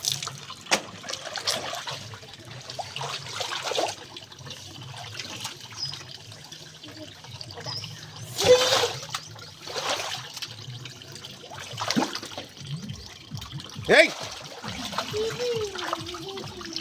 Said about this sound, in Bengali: এই বন্ধ কর, জল বন্ধ কর।